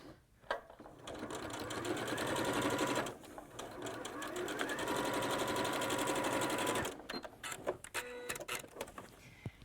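A sewing machine stitches a zippered cosmetic bag in quick rhythmic runs, pausing briefly and starting again, with a few clicks at the end, close and fairly quiet.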